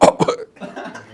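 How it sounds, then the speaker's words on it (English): One person gives two sharp, close coughs in quick succession, followed by a brief shaky breathy sound like a short laugh or murmur. "I start coughing."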